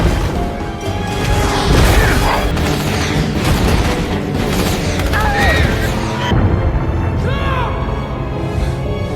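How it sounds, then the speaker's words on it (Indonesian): Booms and crashing impacts from a battle on Pandora roll through a dense, chaotic mix of cinematic sound, with loud blasts layered over rumbling background effects. "Ledakan mulai memenuhi udara."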